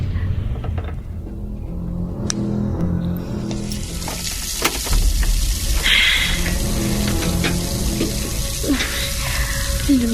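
A bathroom tap runs water steadily into a sink in a dark house in the small hours. The flow is close and continuous, with a low hum and faint clinks underneath.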